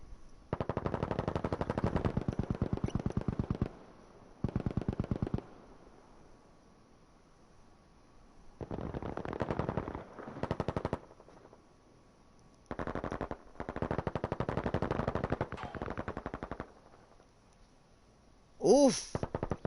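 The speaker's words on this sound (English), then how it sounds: "Just so much machine gun fire from the Tommy and the Lewis guns." Game battle between the 30th and the Legion, with Tommy guns and Lewis guns firing long rapid bursts of machine gun fire in several loud, close volleys separated by short quiet gaps, ending with a brief sharp burst.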